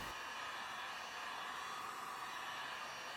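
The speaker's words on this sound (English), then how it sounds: "use a heat gun to lock everything into place" Heat gun blowing over tint film on a 2016 Mercedes W205 C300 taillight: a steady, close, even airy rush of hot air that holds unchanged and alone throughout.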